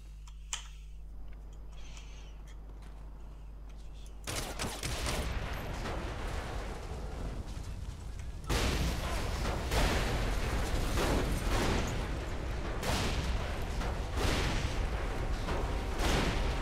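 Gunfire and explosions from the video game Saints Row 3 on PC: after a quiet stretch, dense crackling bursts of shots and heavy blasts erupt and continue loudly without pause.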